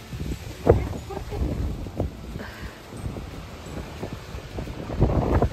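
Strong wind at Hanging Rock buffets the microphone in gusts during a hike, with rushing noise and rumbling, while voices talk intermittently over it.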